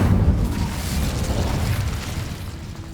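An Incendio fire spell cast in Hogwarts Legacy, a loud roaring whoosh of flame with a low rumbling body that slowly fades over a few seconds.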